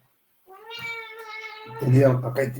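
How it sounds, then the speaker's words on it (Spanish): A house cat meows loudly and drawn out, a long rising-and-falling cry up close, followed by a person talking over its tail end. "tengo un gato que me está volviendo loco"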